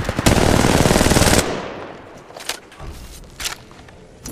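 Rapid automatic gunfire in the mobile battle royale game Apex Legends Mobile rattles loud and dense for over a second, then gives way to quieter scattered impacts and a few sharp bursts, no voices.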